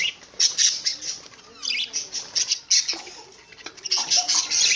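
Budgie parrots in a breeding setup give off busy, overlapping high chirps and squeaky tweets that come in bursts with brief dips. The birds sound close and moderately loud, with no talking.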